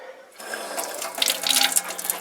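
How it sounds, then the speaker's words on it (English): Water runs steadily from a boat galley tap while the electric water pump hums underneath, a close, continuous hiss of flow that begins abruptly. "We got water. And I can hear the pump running."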